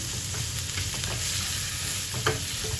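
Minced pork stir-frying in a pan for a ridge gourd and egg dish, a dense, steady sizzle close up with faint spatula scrapes and one brief clink near the end.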